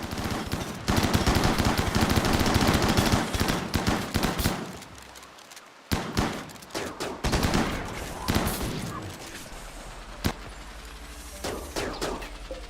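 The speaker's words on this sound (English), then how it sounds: "Oh, this guy's a minigun." Minigun fire in the video game Anomaly 2, a long, rapid, continuous burst of close, loud gunfire that cuts off abruptly, followed by scattered sharper shots and impacts with quieter gaps.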